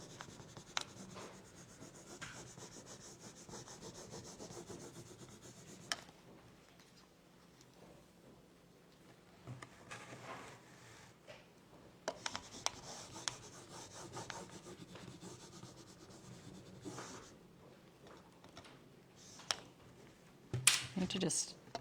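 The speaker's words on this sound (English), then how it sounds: "I'll grab our transfer tool and then just rub it all over." Steady scratchy rubbing of a transfer tool across a stencil transfer, quiet and close, in irregular strokes with a few brief pauses, while someone talks over it.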